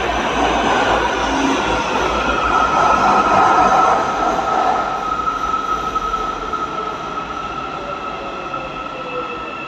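A metro train pulls in on the opposite track at an elevated MRT station in Malaysia, its steady rumble and a thin high wheel whine filling the platform, swelling slightly in the first half and then easing off.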